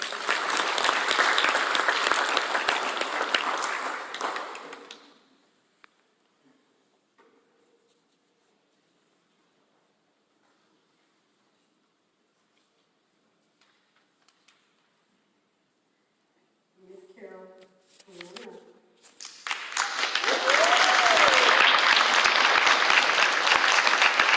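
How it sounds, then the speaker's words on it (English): Audience applause at a recognition event, a loud burst of clapping that fades out, then near silence with small rustles before a second strong round of applause swells back up. "If we could give a round of applause for Tiajane."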